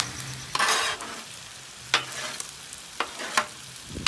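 Shrimp and chicken fried rice is stirred and scraped on a Blackstone griddle, with several short metallic scrapes over a faint sizzle.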